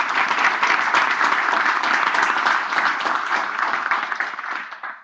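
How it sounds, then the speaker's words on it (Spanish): Audience applause at a free macroeconomics business seminar, a dense sustained clapping from a crowd that holds steady for several seconds and then fades out. "Damos un aplauso."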